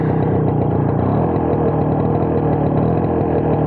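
A vehicle engine with a suspected seized-engine fault runs at a steady idle, its close, even, throbbing chug holding unchanged throughout with no talk over it.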